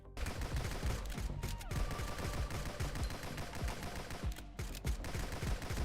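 An AK rifle in the video game GunCraft fires in rapid bursts, a dense, loud rattle of shots with brief pauses between volleys.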